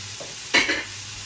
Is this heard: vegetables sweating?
yes